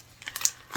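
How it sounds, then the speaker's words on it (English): Scissors snipping into a mail package, a few short crisp cuts and crinkles of packaging, close and fairly quiet, with no talk. "let me get some scissors so I can get in here."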